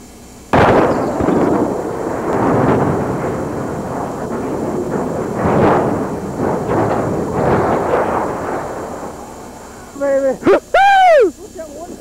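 A demolition blast knocks a structure down: a sudden loud boom followed by a long rumbling roar of debris and collapse lasting several seconds, then sharp whistling tones near the end.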